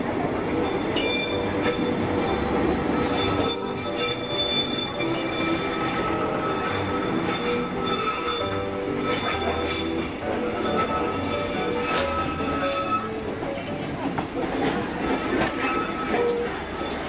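The Odontotos rack railway train in Greece rolls steadily along the rails, wheels clattering and squealing, a continuous close rumble for the whole stretch.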